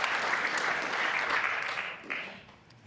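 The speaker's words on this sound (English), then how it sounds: "a nice round of applause before the player breaks off" A steady round of applause from a snooker crowd at the World Seniors Championship final, dense and even, fading out toward the end.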